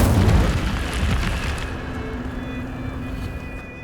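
A fiery spell cast in Hogwarts Legacy bursts as a loud whooshing boom at the start, then fades into a lingering crackle and rumble over a few seconds.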